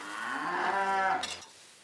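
A Dexter cow, a small mini cattle breed on a farm, gives a single drawn-out moo, clear and fairly close, rising then fading over about a second and a half.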